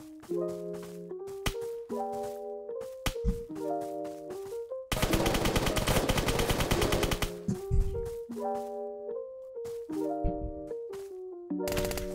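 Rapid automatic gunfire in the Roblox game Apocalypse Rising 2, a long dense burst of shots in the middle framed by shorter volleys, loud and close over a tonal musical backdrop.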